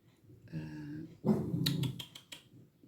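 A female dog whines in short rising tones, then gives several sharp close barks, loud and near in a home.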